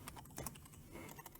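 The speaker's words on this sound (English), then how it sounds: "Very loud typing." Rapid, clicky typing on a computer keyboard, close and fairly loud, keys tapping in an uneven rhythm with no talking.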